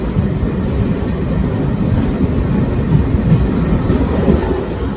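A train pulling into Baiyappanahalli railway station near Bangalore, a steady loud rumble of the moving train with a continuous low clatter throughout, no voices.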